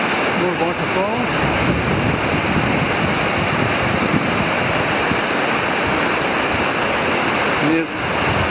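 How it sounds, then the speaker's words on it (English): Waterfalls in a gorge pour out a loud, steady roaring rush that stays constant throughout, with a brief dip near the end. "More waterfalls."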